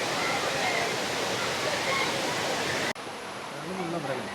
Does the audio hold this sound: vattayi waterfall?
yes